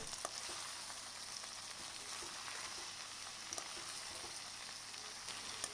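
Chopped ivy gourd fries gently in oil in a pan over a low flame, a soft, steady crackling sizzle that runs evenly throughout with occasional tiny pops, fairly quiet and close with no voices.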